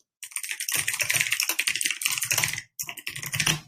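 Rapid typing on a computer keyboard, a dense run of close, crisp key clicks with a short pause before the clatter resumes.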